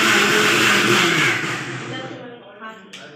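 A kitchen mixer grinder blending boiled potatoes whirs loudly and steadily up close, then winds down and stops about halfway through, leaving quiet room sound.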